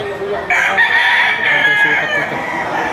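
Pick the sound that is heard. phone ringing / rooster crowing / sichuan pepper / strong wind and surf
rooster crowing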